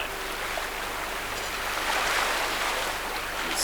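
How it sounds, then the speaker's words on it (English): A boat pushes through rough, choppy water of the Solent with waves around two feet high, giving a steady broadband wash and hiss of water rushing past the hull, fairly close, with no voices. "The boat is pushing hard through the water, but the water's moving past the boat"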